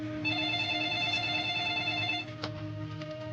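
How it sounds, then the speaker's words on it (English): An office telephone rings in a homicide unit, a steady electronic trill with sustained harmonic tones held for about two seconds, then a brief break and a softer continuation, loud and close with no speech. "The phone rings in my office"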